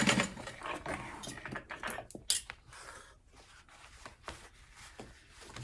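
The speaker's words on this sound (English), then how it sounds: "sew using that 1/2 inch seam allowance" A sewing machine stitches a handbag flap seam at a half-inch allowance, running in short bursts of rapid mechanical clatter with brief pauses and backstitching, close and moderately loud with no speech.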